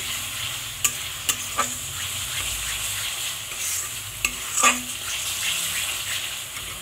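Masala for egg curry fries and sizzles in a pan after a splash of water goes in, while a spoon scrapes and knocks against the pan in several distinct taps under a continuous hiss.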